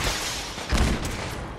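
Gunshots from a weak gun in Fallout 4, a brief noisy burst with one thudding shot standing out, fairly loud over rough game background.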